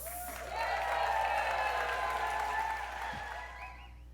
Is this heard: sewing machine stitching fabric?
no